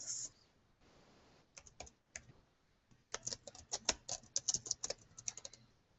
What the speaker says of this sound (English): as I'm typing